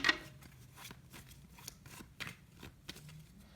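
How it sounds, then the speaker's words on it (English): Tarot cards are shuffled up close for a love reading, a sequence of soft, dry riffling snaps and paper flicks spaced irregularly over a quiet background, with no talking. "Alright, final shuffle."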